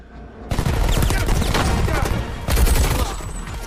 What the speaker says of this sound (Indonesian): dengan melepaskan tembakan yang diikuti oleh baku tembak lain, di mana Max akhirnya membunuh Vance